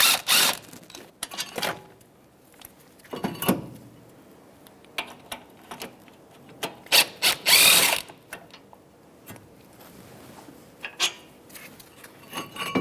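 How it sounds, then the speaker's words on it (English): Ratchet with a 17mm socket removing brake caliper bracket bolts on a Toyota RAV4, heard as close, loud bursts of rapid clicking separated by brief pauses. "Now I'm going to take my two bolts out with that 17mm socket."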